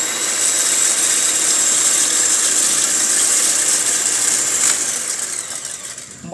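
Eggs and other ingredients for Creole cupcake batter are mixed with an electric mixer that whirs steadily and closely, with a high buzzing tone, before winding down at the end.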